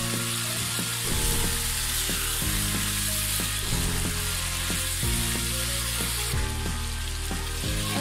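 Dried mola fish shutki, washed beforehand, sizzles and fries steadily in a pan, a continuous close hiss with soft scraping stirs recurring throughout and no voices.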